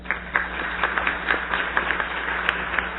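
Applause in a city council chamber during a solemn session, a steady wash of many hands clapping, moderately close and continuous with no talking over it.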